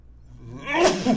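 A single person's sneeze at close range, a brief quiet intake followed by a sharp loud burst near the end, with a little voice sound around it.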